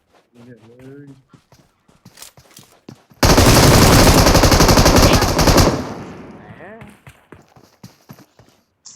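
A sustained burst of automatic gunfire in the shooter game PUBG Mobile, loud and rapid for about two and a half seconds, with a player talking excitedly before and after.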